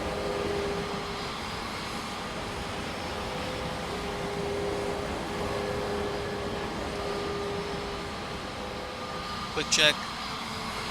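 An airliner is towed along the taxiway in a flight simulator game, a steady broad engine and air drone holding at an even level throughout, with a voice speaking briefly over it.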